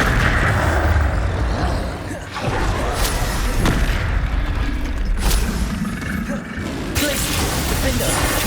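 Confringo spell blasts in Hogwarts Legacy amid dense battle noise: repeated booming impacts and crackling bursts over a constant rumbling din, with voices calling out spell names throughout.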